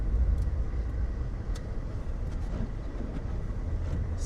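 A Jeep Liberty in 2-wheel drive pushes through deep snow in a ditch, its engine giving a steady, heavy low rumble that stays constant and close, with no talking.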